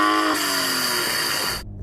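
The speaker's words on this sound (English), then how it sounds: "So I'm going to start off by revving up my car." A BMW M240i six-cylinder engine revs loud and close, a sustained rising howl with strong harmonic whine that cuts off abruptly near the end, no voices over it.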